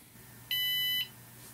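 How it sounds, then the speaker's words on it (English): A piezo buzzer wired to an Arduino board sounds one steady electronic tone, lasting about half a second and clearly louder than the faint room background, with nobody speaking. "Now we'll upload the program and you should hear it play a tone."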